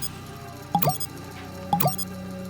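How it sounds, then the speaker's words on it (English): Water drips into a rain collector in the survival game Sheltered 2, two distinct plopping drops about a second apart against a quiet background. "I guess that's because it's raining. It's filling up our water collector."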